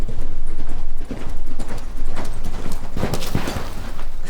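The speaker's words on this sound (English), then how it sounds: "there's going to be a horse galloping past you" A galloping horse in a Wild West scene passes close by, its hooves clip-clopping in a quick, steady rhythm that stays loud and busy for about four seconds.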